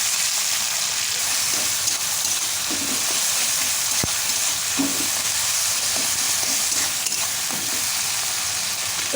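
Tomato fries slowly on low heat for a village-style Bengali egg curry, a steady, close, even sizzle and crackle running on without a break, with no voices.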